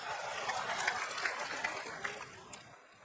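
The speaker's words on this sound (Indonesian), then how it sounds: "Tepuk tangan buat Indonesia" Audience applause at an Indonesian comedy show, a moderate, slightly distant patter of clapping with a few sharper claps standing out, fading toward the end.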